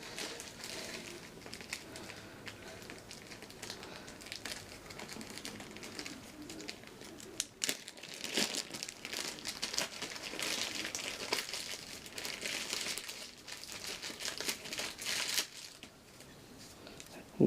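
Packing tape being pulled and torn off plastic-wrapped model aircraft parts during an unboxing, crinkling and rustling close by for a long stretch with occasional sharp rips, no talking.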